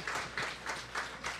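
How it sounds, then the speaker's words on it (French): Audience applause at a university event in Sherbrooke, a steady patter of many hands clapping in a room, brief and moderately loud with no voices over it. "Une main d'applaudissement, s'il vous plaît."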